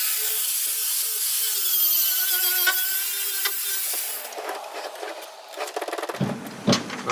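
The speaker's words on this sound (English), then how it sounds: "I wonder if I can take the angle grinder and the flap disc and just grind this down a little" An angle grinder with a flap disc grinds down a metal part, giving a loud steady whine for about four seconds. The whine then breaks off into scattered scraping and clattering.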